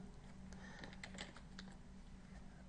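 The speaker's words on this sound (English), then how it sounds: "you can type in partial words here, search for it" A short, quiet burst of keystrokes on a computer keyboard, a few light clicks tapped in quick succession while searching within the Neverwinter Foundry editor, with no speech.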